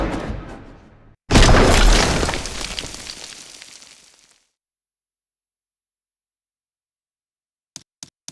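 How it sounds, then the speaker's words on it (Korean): An explosion in the video game Sanabi: a single loud, close blast that roars and slowly dies away over about three seconds. Near-silence follows, broken only by a few faint ticks at the end. "네, 충격을 받으면 폭발해요"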